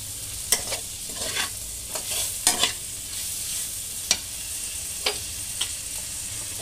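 A bhel mixture with salt is stirred and sautéed in a pan, giving soft sizzling with several sharp scraping clicks of a spoon at irregular intervals, close and fairly quiet with no talking.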